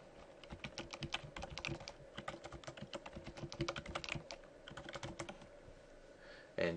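Rapid keystrokes on a computer keyboard entering a password during a Windows software install, a steady run of close, crisp clicks for several seconds with no talking.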